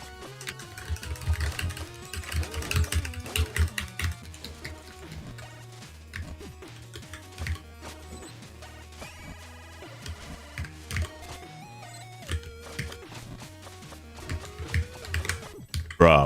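Computer keyboard keys are mashed in rapid, irregular clattering bursts during a blind race of the game The Messenger. The typing sits close, mixed with tonal game music and occasional talk.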